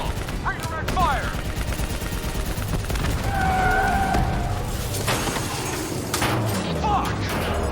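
Gunfire in Call of Duty Black Ops 3, with bursts of automatic shots and impacts under rumbling vehicle noise and battlefield chaos, loud and close throughout.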